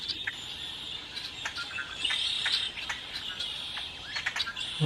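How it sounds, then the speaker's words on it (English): Mockingbirds and orioles sing around a feeder, a busy mix of bright chirps, whistles and quick trills close by over a faint insect hum. "We got a couple of orioles over at this feeder."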